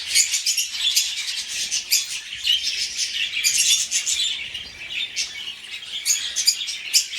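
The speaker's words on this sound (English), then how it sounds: "Now I'll leave you to enjoy the natural bird sounds" Parrots in an aviary chirp and tweet constantly, a dense chorus of bright calls with occasional wing flaps, steady and fairly close with no talking.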